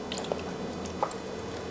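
Soaked tamarind squeezed by hand in salted water gives soft wet squishes and squelches, a few distinct close squeezes over a low continuous background with no talking.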